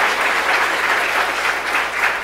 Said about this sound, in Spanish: Dale un fuerte aplauso a la palabra de nuestro Señor y Salvador Jesucristo